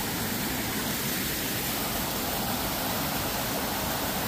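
A steady, dense rush of flowing water from a cascading water feature along the Appalachian Trail, constant and loud with no other sounds.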